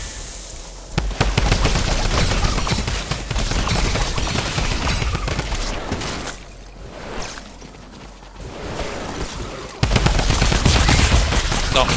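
Rapid, loud bursts of automatic gunfire from the video game Fortnite run almost continuously, dipping briefly in the middle before the shooting picks back up.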